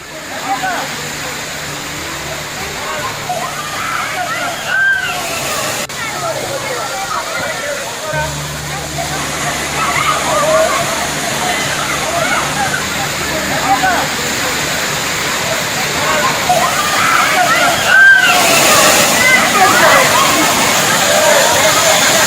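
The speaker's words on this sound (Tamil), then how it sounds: "தேனி மாவட்டம் பெரியகுளம் அருகே உள்ள கும்பக்கரை அருவியில் தண்ணீர் ஆர்ப்பரித்து கொட்டுகிறது" Water gushing down Kumbakkarai waterfall near Periyakulam in Theni, a steady loud roar of falling water lasting throughout, with voices faintly mixed in.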